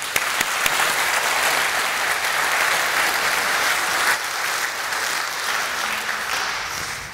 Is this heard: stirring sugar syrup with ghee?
no